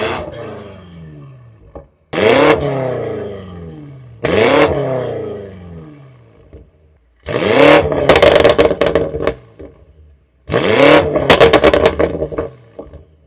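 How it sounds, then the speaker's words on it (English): BMW F90 M5 Competition on its stock exhaust with Callus downpipes, revved hard in four loud bursts, each a sharp rise to a roaring crackle that falls away, with short quiet gaps between them. "You guys see how it sounds with just the stock exhaust,"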